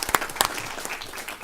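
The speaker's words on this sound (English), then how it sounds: "we can clap because this is awesome" A brief patter of applause in a city council chamber, with a couple of sharp claps at the start fading into a softer, scattered clapping.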